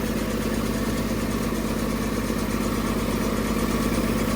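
A toy hauler's generator engine runs rough at a steady idle, a close, continuous droning hum with a slight uneven pulse and no throttling up.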